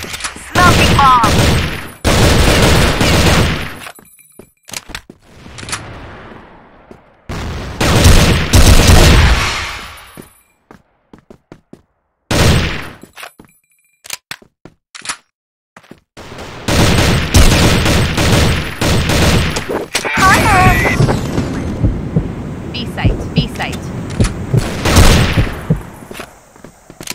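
M4A1-GOLD rifle fire in the CrossFire shooter game comes in sharp repeated bursts separated by gaps of quiet, with footsteps and brief voice callouts between the volleys.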